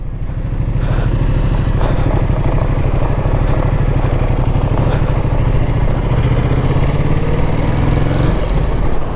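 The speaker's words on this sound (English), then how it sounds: "The engine is so raspy." Ducati Multistrada motorcycle engine roaring while riding, loud and raspy with a dense rhythmic exhaust pulse that holds steady throughout, close to the rider with no talking.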